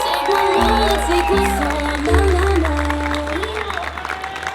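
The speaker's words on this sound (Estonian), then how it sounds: "suur aplaus palun!" Applause and some cheering from the crowd at a season-ending event at the Tallinn TV Tower, mixed with loud music carrying a deep bassline, the clapping sustained underneath.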